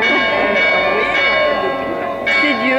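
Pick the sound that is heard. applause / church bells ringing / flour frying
church bells ringing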